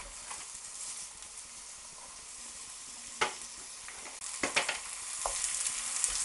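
Minced meat for a lasagne sizzles steadily in a pan while a wooden spoon breaks it up, with a few sharp scraping knocks of the spoon against the pan standing out over the constant frying hiss.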